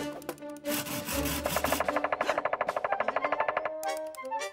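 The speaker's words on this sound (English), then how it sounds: "Why does it keep banging its head against the logs like that? I believe this is a woodpecker." Cartoon woodpecker pecking at logs, a rapid, evenly spaced burst of sharp wooden knocks in a fast drumming run, with scraping sounds before it and a few scattered knocks after.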